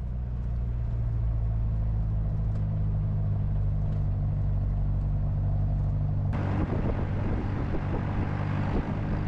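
Jeep on snowy tyres driving along the snow-covered Murree–Abbottabad mountain road in winter, a steady low engine rumble with road noise, rising suddenly louder and brighter partway through.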